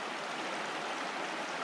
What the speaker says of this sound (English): this beautiful creek.